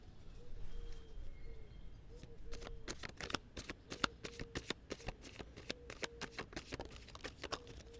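Tarot cards being shuffled by hand, a run of crisp, rapid riffling flicks that thicken into a steady fluttering burst in the second half, close and fairly quiet, with no talking.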